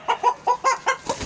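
A single-bone Aseel rooster clucks five or six times in a quick, even series of close, loud calls, with no one talking over it.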